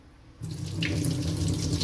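A tap suddenly starts running and water gushes steadily into a bowl as crushed jackfruit seeds are rinsed, a close, continuous splashing that fills the rest of the moment.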